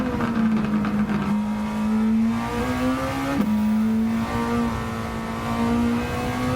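Small Alfa Romeo engine revving hard in Gran Turismo 7, a rising and falling buzzy drone that holds high revs, dips briefly, then climbs again, loud and steady with no talk.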